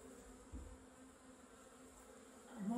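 Bees buzzing around a small hive on a French rural property, a faint, steady drone with one brief louder pass near the microphone and no talking.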